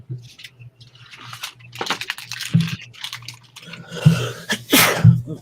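One person sneezes indoors amid faint rustling and low room hum, short sharp bursts standing out near the end with no talk over them.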